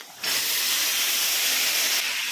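Mixed vegetables dropped into a hot kadai with turmeric-spiced pulao base, setting off a sudden loud hiss that holds steady for about two seconds before easing off, close and harsh.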